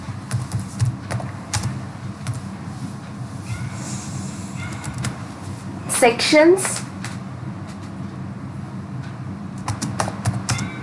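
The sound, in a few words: typing on a computer keyboard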